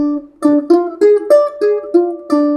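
A diminished chord picked note by note on a ukulele, about eight bright plucked tones in a steady rising and falling pattern, close and clear with no talking.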